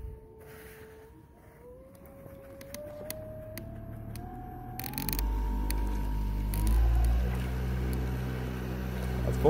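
A DIY 2.5kW electric outboard motor spins up to full throttle, a steady electric whine rising in pitch in steps over low rumbling water and hull noise, moderately loud and close.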